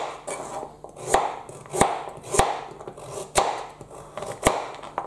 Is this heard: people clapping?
no